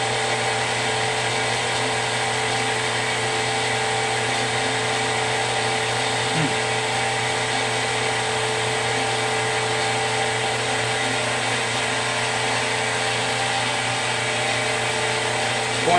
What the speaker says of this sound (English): Now this is a wet pump.